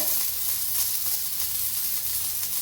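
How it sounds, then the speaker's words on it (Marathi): Green chillies roasting with salt in a pan, a steady bright sizzle and hiss running throughout, close and continuous, with no voices. "एकदा मीठ टाकल्यावर लगेच भाजते त्या बघा मिरच"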